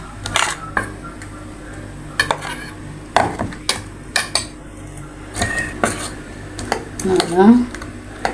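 A spoon stirs dosa batter mixed with grated beetroot in a bowl, giving irregular clinks and scrapes against the rim, loud and close, with brief pauses between bursts.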